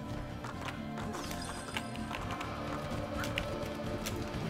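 A horse gallops in the Assassin's Creed II video game, rapid clip-clop hoofbeats running steadily under a busy layer of game music and ambience, with no talk.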